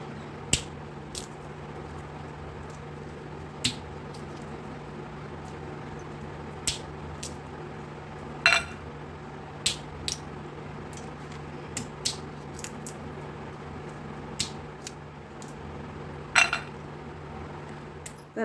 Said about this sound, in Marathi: माझ्याकडे शेंगा होत्या म्हणून मी आता त्या फोडून त्याचे शेंगदाणे काढून घेणार आहे.